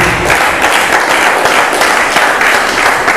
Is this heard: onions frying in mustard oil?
no